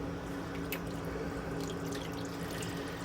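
Water from a measuring cup poured into an unbaked pie shell for a water pie, a steady soft splashing trickle with faint drips, close and continuous with no talking.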